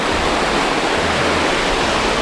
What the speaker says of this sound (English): Here's the waterfall. It starts up there.